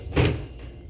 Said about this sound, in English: it's sliding closet. It was hidden right here.